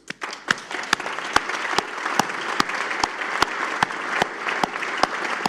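Crowd at a university graduation ceremony applauding the graduates' spouses and significant others, dense steady clapping from many hands, with a few sharp individual claps standing out in an even rhythm.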